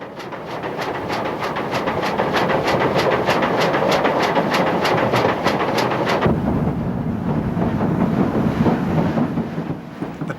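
A steam locomotive working alongside a diesel up a gradient, with loud rhythmic chuffing beats over a heavy rumble for about six seconds before the exhaust beats stop and a steady roar continues.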